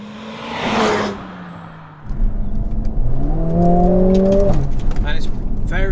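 A 2021 Mercedes A45 AMG S pulls hard from inside the cabin, the engine droning, briefly dropping, then surging into a loud rising roar with upshifts, while people talk over it.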